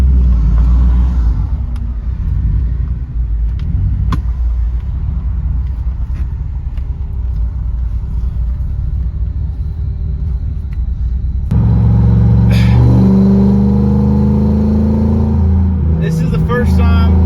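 A 1965 Ford Mustang coupe engine rumbles steadily while driving, swelling into a louder, throatier rev near the end with some road noise.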